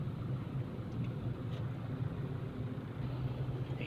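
A car idles in slow-moving traffic on the way to an airport terminal, giving a quiet, steady low engine rumble with faint road noise and no other distinct sounds.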